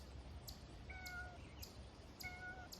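A cat meows twice, fairly close, in a farm garden near a barn. Each call is short and rising, heard over a steady outdoor background with no talking.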